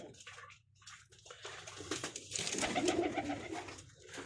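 Pigeons bathing in a water pan, with fluttering splashes that build into a continuous wash of flapping and water, soft cooing heard near the start, close and moderately loud without any talking.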